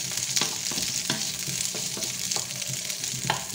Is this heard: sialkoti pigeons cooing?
no